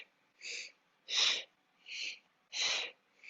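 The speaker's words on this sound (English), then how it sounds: "This is a kriya, a cleansing breath designed to help us purge anything in our respiratory system that is stuck." Sharp, forceful nasal sniffs from a yoga kriya cleansing breath, four or five brisk bursts in steady rhythm about every three-quarters of a second, close and clear with quiet gaps between.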